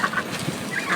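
Short honking calls from domestic ducks of a breed prone to lameness, several quick bursts close by during feeding time, with no talk.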